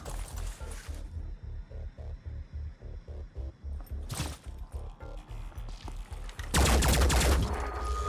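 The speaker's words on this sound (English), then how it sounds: "Why did that sniper shoot at us" Sniper and rifle fire in the tactical strategy game Phoenix Point, heard as a run of rhythmic rapid shots followed by a louder sharp blast and a dense burst of noise near the end, with no voices.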